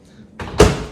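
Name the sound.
microwave door closing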